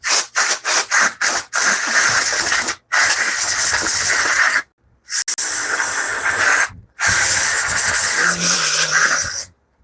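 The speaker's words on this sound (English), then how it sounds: "Moving air compressor pressure." Pressurized air from an air compressor in a woodworking shop blasts out in loud, broadband hissing bursts, first several short spurts then long sustained releases separated by brief silences, with a faint voice near the end.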